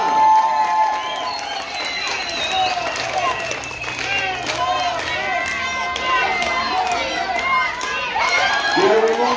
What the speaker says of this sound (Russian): Болельщики поддерживают нападение Бизона!